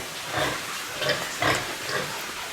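A pig on a farm in January gives about four short, soft grunts spaced roughly half a second apart, moderately close over a faint steady background.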